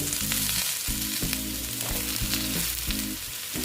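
Mixed vegetables with pumpkin and pointed gourd fry loudly and steadily in a pan. The dense, close sizzle carries a pulsing low rumble throughout.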